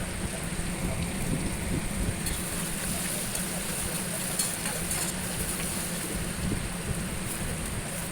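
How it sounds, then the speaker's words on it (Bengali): Potatoes frying in hot oil give a steady, dense sizzle and crackle that carries on loudly without a break. "আলুগুলো ভেজে তুলে নেওয়া হচ্ছে।"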